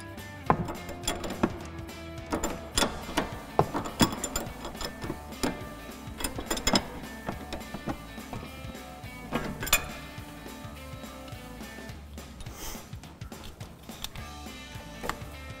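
A 19mm nut is tightened on a new sway bar link of a 2005-2014 Mustang, a 6mm Allen wrench holding the stud, giving close, irregular metallic clinks, taps and ratchety clicks with no talking.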